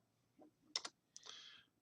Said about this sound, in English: Typing is not working well for me today